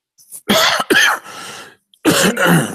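Several loud, close coughs in quick bursts with short silences between, rough and throaty, ending in a harsher throat-clearing hack.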